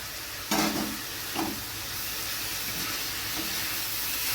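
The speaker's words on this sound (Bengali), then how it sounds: "নারকেলটা দিয়ে ভালোভাবে মিশিয়ে নিচ্ছি বাঁধাকপির সাথে" Roasted coconut stirred into cabbage in a pan, a steady frying hiss with two or three soft scraping strokes of the spatula near the start, close and alone.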